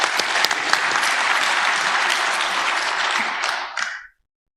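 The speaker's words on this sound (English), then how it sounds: "So, round of applause for Rodrigo." Audience applause at a scientific software lightning-demo session, a dense burst of clapping from a room of listeners that holds steady for several seconds, then fades and cuts off abruptly.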